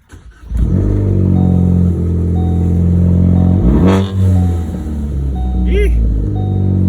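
A Ford Focus ST fitted with a Turbosmart blow-off valve revs loudly at close range, the engine note rising and dipping in throaty bursts, followed by a short whistling chirp near the end.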